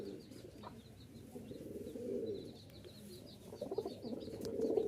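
Racer, lotan and giribaz pigeons for sale in Mirpur, Dhaka coo softly in low, rolling calls, with faint chirps and the shuffle of birds around them.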